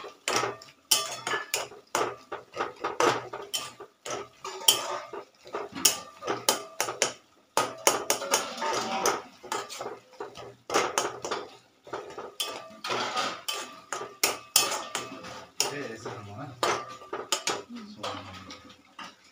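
A metal spatula scrapes and clatters against a pan as turmeric and spices are stirred for jackfruit kalia, a busy run of close, uneven knocks and scrapes with pauses.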